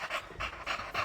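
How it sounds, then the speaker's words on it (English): A dog in a VR game pants rhythmically, with four quick breathy puffs in about a second, soft and close with no other sound. "Here's the dog one last time."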